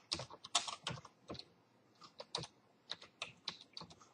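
Fingers type on a computer keyboard to enter a new customer in quoting software, producing quick bursts of close, crisp key clicks separated by short pauses.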